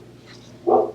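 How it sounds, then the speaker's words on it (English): Dogs barking indoors at home, a single loud, close bark bursting out near the end after a quiet room. "sorry about my dogs barking."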